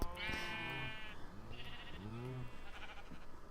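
Minecraft sheep bleating in a farm pen: several wavering, nasal bleats overlapping one another, loud and close, one long call followed by shorter ones against a dense game background.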